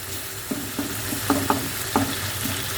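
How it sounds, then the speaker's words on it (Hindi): Tomatoes frying in a pan for masala black chickpeas, a steady close sizzle with several soft scraping stirs of a spoon spread through it, no talking. "जब तक टमाटर नहीं गले, जब तक आपने भूनना है इसको"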